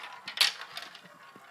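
Marble tower toy with a marble rolling down its track, giving a short run of light clicks and clatters that peak in one bright knock near the start, then trail off quietly.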